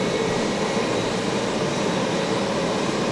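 A hair dryer used as the blower on a small homemade firebrick forge gives a steady, loud, broadband whoosh of rushing air. The sound stays constant for about three seconds with no speech.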